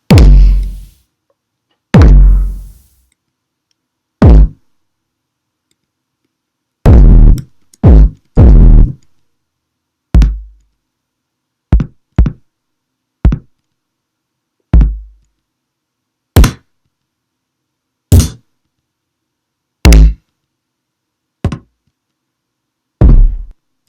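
A series of short, punchy kick drum samples in Logic Pro X's Ultrabeat are played one at a time with gaps between them, each a single deep thump, auditioned separately with no talking.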